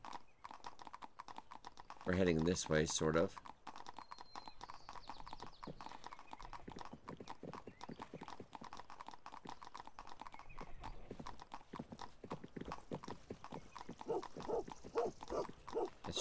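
Horse hooves clip-clop steadily in the video game 1428: Shadows over Silesia, a quiet rhythmic trot that runs throughout, with a brief neigh early on and a person speaking over it.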